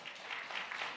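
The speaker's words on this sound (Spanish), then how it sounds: "Demos un aplauso al Señor que van a ser mamás" Congregation in a church service claps together, a steady wash of applause that swells in soft waves across the moment, fairly faint and without any voices over it.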